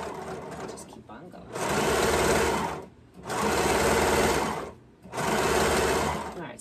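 Sewing machine stitching along a fabric edge for eco-friendly unpaper towels, running in three steady loud whirring bursts separated by short pauses as the fabric is repositioned.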